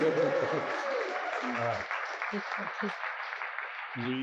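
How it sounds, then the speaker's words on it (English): Steady audience applause at a California-Africa climate and economic partnership forum, sustained and fairly loud throughout, with voices and low talk mixed in beneath the clapping. "That deserves an applause"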